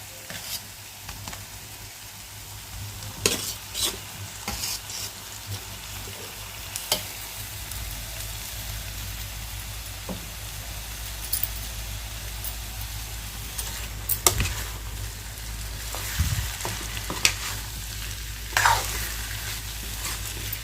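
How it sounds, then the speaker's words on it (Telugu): Potato pieces stirred in a pan with fried green chillies for a spicy potato fry, giving a steady soft sizzle with scraping spatula strokes that come and go over about twenty seconds, close and alone. "ఇలా కలుపుకుందామండి ముక్కలన్నిటిని."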